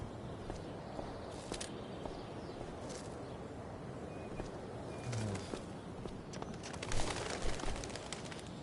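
Soft bird cooing in the Life is Strange: Before the Storm video game, faint and intermittent over a dense outdoor ambient bed with light rustles and a few louder shuffles.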